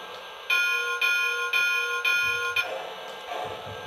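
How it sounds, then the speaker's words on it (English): A Lionel toy train set's electronic bell sound effect rings in four evenly spaced metallic dings about half a second apart, loud and clear, then fades into a low hum with no talking. "Here is the bell."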